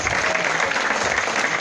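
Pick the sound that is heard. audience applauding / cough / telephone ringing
audience applauding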